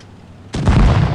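A tank cannon firing in the World of Tanks Blitz video game, one sudden loud boom that rings on as a heavy rumble.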